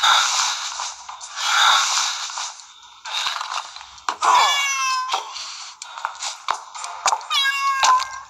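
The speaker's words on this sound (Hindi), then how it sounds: "This cat seems to be helping me." Repeated cat meows in the video game Rosemary Fate, several distinct calls spaced through the stretch, close and fairly loud over a steady game ambience with no talking.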